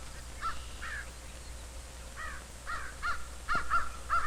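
Crows cawing, a series of harsh calls in short bursts, first spaced apart and then coming quicker near the end, moderately close over faint background hum.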